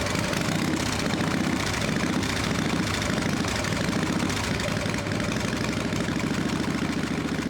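A Harley-Davidson Dyna Wide Glide V-twin that has sat unused fires up and settles into a steady, loud idle, its rumbling beat running nonstop throughout.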